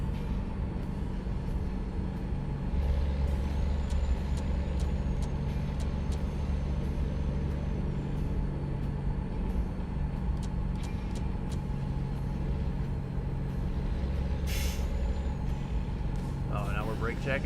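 A heavy truck in American Truck Simulator rumbles steadily along the road, with a brief hiss of braking late on, all beneath a low continuous engine drone, with a voice talking over it.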